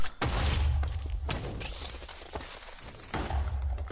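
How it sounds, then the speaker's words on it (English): Explosions in the Minecraft Super Smash Mobs video game, with a heavy boom at the start, another burst around the middle and a third near the end, each with a low rumbling decay. "An explosion!"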